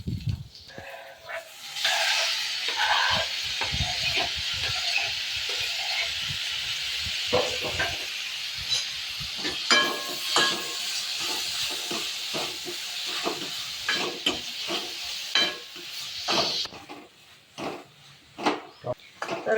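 Tomatoes added to frying onions for dal tadka sizzle steadily in the pan, with a fluctuating hiss and scattered scraping stirs close by, growing busier toward the end.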